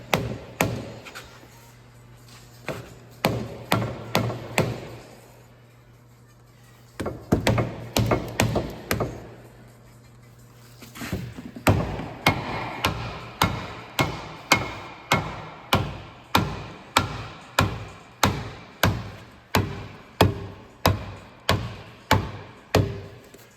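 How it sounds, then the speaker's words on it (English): Repeated heavy, muffled dead blow hammer taps on a 2004-2011 Ford Focus front wheel knuckle in bursts, then a long steady series of evenly spaced blows, close by with a faint hum underneath. "So I gotta go get my dead blow hammer."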